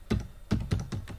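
Keys clacking on a computer keyboard as a web address is typed, six or seven firm, close keystrokes in an uneven rhythm with no voice.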